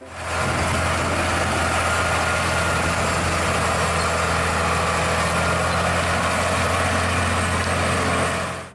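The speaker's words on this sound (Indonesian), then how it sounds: "Di sini ada mobil truk gandeng." Steady idling engine drone from a toy trailer truck, a constant low hum with mid-range whine holding evenly for the whole stretch, close and fairly loud with no pauses.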